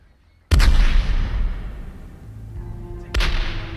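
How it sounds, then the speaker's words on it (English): Two heavy cannon shots fired at sunrise in Havana harbor for a 1912 naval burial at sea, each a sudden deep boom followed by a long rumbling decay, loud and echoing with a low hum between them. "the citizens of Havana awoke to a cannon shot."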